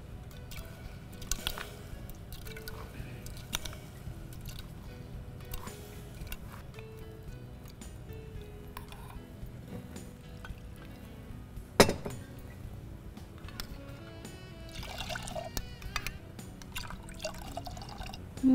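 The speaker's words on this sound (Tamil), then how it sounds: "இப்போ இந்த ஊற வச்சு வச்சுருக்க அரிசியை அதோட சேர்க்க போகிறோம்" Soaked broken rice added to water in a cooking pot, soft repeated drips and light watery splashes with a faint clink now and then, close and fairly quiet, without talk.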